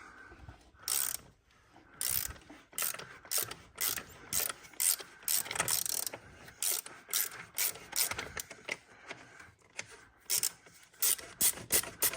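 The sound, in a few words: ratchet with 24mm socket unscrewing an engine oil filter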